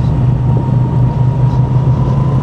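Moto Guzzi V7 Sport motorcycle with a large single-cylinder-displacement engine, heard while riding: a steady, loud low-pitched drone that holds constant throughout, with no talk over it.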